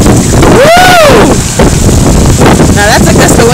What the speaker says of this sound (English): Now that's a gust of wind